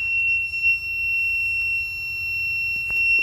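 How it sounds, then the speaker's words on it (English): A home standby generator system, ready but not set to auto mode, gives off a sustained, steady high-pitched electronic tone that holds unbroken from start to finish over a low background hum. "When you hear that beep come on, that means the system is ready to go."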